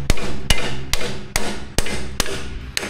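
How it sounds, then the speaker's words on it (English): Seven sharp, evenly spaced hammer blows ring out on steel while a rivet is cut from a Ditch Witch 1820 trencher's 6-inch carbide chain. Each strike is loud and close, with a short metallic ring between hits and no talking. "so we're gonna have to cut a rivet."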